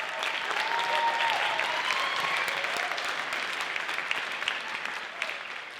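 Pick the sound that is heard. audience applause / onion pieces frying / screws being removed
audience applause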